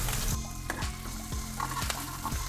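Curry leaves sizzling and frying in hot oil with potato for a pepper potato fry, a steady close crackle with a few brief clatters from stirring.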